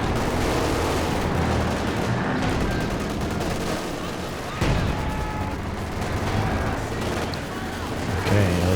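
Artillery shells and machine-gun fire in the World War II strategy game Company of Heroes 2, a steady roar of distant bursts and booms with a sharp impact near the middle, under a caster's talk.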